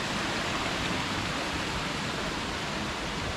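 Sengkuang waterfall in Indonesia, near a tea plantation, gives off a steady, even roar of falling water that fills the whole clip without pause and with no voices.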